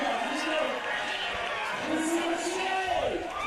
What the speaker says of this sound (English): The crowd are absolutely loving it